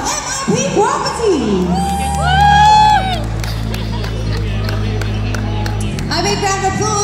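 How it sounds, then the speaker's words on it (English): Crowd at an awards ceremony cheering, whooping and applauding a category winner, loud mixed shouts and clapping with some voices rising above, while an announcer's voice and a music sting sound over it. "A big round of applause for Mr."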